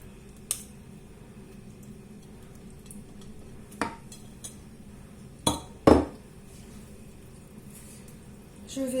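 Spoonfuls of courgette gratin mixture going into a gratin dish, with a few distinct clinks and scrapes of utensil against the dish spaced out over a quiet background.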